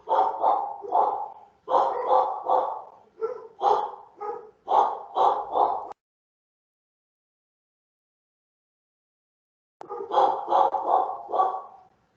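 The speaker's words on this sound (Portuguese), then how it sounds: "A cachorrada resolveu se manifestar." Several dogs bark in loud, rapid volleys close by, falling silent for a few seconds before another burst of barking starts up.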